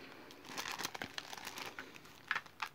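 Soft, close plastic crinkling in short irregular bursts, a quiet rustle of a small plastic bag of Christmas stamps being handled.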